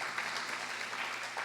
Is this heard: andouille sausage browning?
no